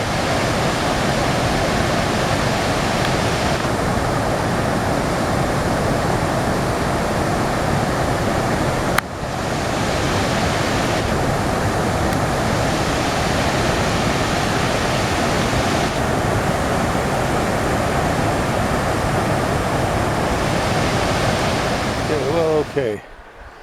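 Mist Falls roars in a constant, powerful rush of falling water on a mountain trail, a loud broadband wash that barely changes, with a brief thump partway through and a rustle at the very end.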